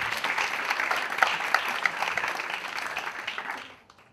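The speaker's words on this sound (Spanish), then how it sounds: "Quiero que deis un aplauso a aquellas personas que están bien." Crowd applause at a gathering in Barcelona's Plaza Real, a dense patter of many clapping hands, fairly distant and even, fading out toward the end.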